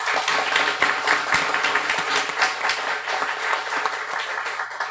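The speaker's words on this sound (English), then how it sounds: "let's start with a big round of applause for both Maddie Swab" Sustained applause from a crowd at a guide dog school graduation, dense clapping filling the whole stretch at steady loudness with no voices over it.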